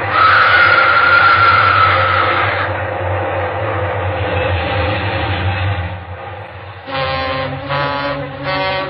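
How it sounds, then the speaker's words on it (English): A loud commuter train roars past up close in a radio drama sound effect, a heavy rumbling clatter, then a horn blares in several short tooting bursts near the end. "Nobody's going to hear anything except this train."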